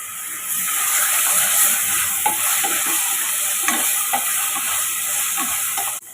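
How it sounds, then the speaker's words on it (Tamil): Pieces of country chicken sizzle and fry in a hot pan with salt and turmeric while being stirred for soup, a loud, steady hiss broken by small scraping stirs. "கொஞ்சமாக ஒரு 1/4 டீஸ்பூன் உப்பு சேர்த்து வதக்கி வச்சுக்கோங்க."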